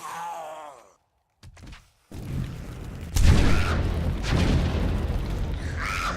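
An explosion in the 7 Days to Die video game lands as a loud, deep boom and rumble, followed by sustained low crashing noise. A brief groan-like game sound comes before it.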